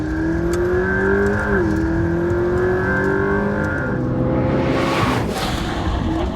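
A McLaren P1 hypercar accelerates hard with a steady, rising engine howl and one brief gear-change dip before the pitch jumps sharply, loud and close, with no voices.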